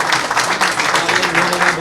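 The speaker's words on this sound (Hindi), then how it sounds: "थोड़ी सी और जोरदार तालियां guys. थोड़ा सा और please." Audience applause at a song launch event, a steady wash of clapping filling the whole stretch at moderate loudness with no gaps.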